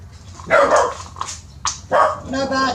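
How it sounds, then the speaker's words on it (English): A dog barks several times in short, sharp bursts, close and loud, with a brief whine between barks. "No barking."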